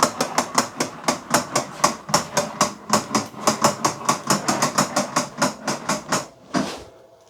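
Retractable air hose reel by Giraffe Tools in a workshop, with a 10-metre hose pulled out: rapid regular ratcheting clicks, close and steady, a brief pause near the end.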